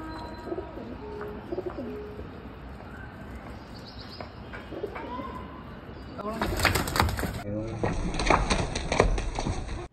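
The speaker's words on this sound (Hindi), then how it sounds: "दोस्तों कबूतर बहुत ज्यादा करीब में है," Pigeons coo and chirp close by over steady background noise and people talking, with a burst of louder fluttering and bird calls in the last few seconds.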